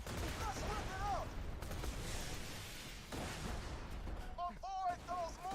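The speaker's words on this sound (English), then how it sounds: "Avoid those mortars, Slab!" Mortar fire in a video game battle, a barrage of booming blasts and rattling gunfire thudding through steady combat noise, with bursts of voices and whistling tones on top.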